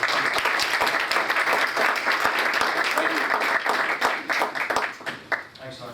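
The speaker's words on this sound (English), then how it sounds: "I think it's worth a round of applause" Applause at a school board meeting: a roomful of people clapping steadily and fairly loudly for around six seconds, the clapping thinning slightly toward the end.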